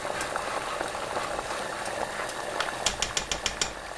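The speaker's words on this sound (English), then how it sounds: "so this is at a full boil" A pot of water boils hard on the stove, heating up for cornmeal, and gives a steady close rolling bubble, with a run of quick soft pops and clicks toward the end.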